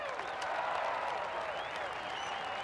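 Crowd applause from spectators at a golf course in Tiger Woods PGA Tour 08, a steady even wash of clapping that carries moderately loud through the whole stretch.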